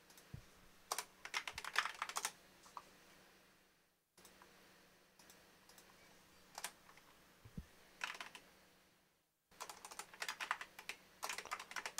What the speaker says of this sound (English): Someone was typing there but stopped.